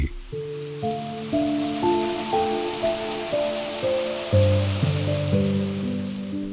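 Steady monsoon rain falls in Bangladesh as a continuous broadband wash, with a melodic instrumental tune playing prominently over it.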